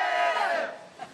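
Crowd at a Filipino rap battle letting out a loud, brief roar of cheering and shouting that fades within about a second.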